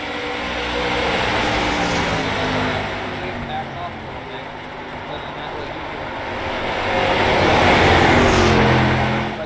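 Street stock cars racing at USA International Speedway in iRacing, a continuous engine drone that swells as cars pass, rising louder toward the end, with commentary talk over it.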